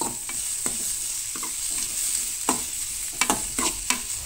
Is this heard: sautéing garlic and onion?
yes